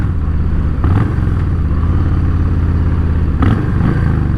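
A Harley-Davidson Softail Standard motorcycle with the Milwaukee-Eight (M8) engine and 6-speed transmission runs loud and close, a deep, steady rumbling idle with brief surges and mechanical clatter.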